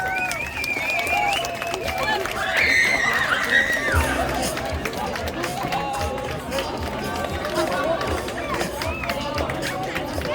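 Inside the Zorica pub in Ljubljana, a packed crowd claps steadily and cheers as the band comes in, with high excited shrieks rising midway and voices shouting throughout.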